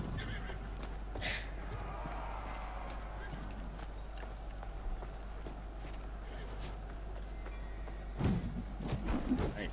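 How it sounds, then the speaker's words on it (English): Horses neighing and hooves clopping in a medieval strategy video game match, a whinny rising midway and galloping thuds near the end beneath a steady background hum and faint voices. "here come the horses."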